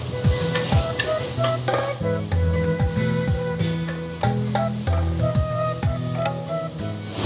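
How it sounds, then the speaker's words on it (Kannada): Onions fry in a home kitchen pan, with a constant sizzle and frequent clinking, scraping stirs of a utensil against the metal, up close over soft background music. "ಆನಿಯನ್ ಚೆನ್ನಾಗಿ ಫ್ರೈ ಆಗಿದೆ."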